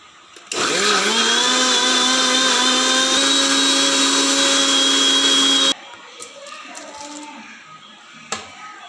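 A blender mixing juice with ice cubes and water, a loud steady whirring roar that starts abruptly, holds for about five seconds and cuts off, leaving faint room noise, close by.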